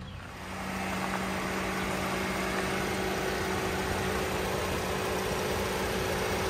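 A 2014 Cadillac SRX Luxury AWD with a 3.6-liter V6 idles steadily, a smooth low hum under a constant broadband hiss, faint and unchanging after a brief quieter start, with no talking.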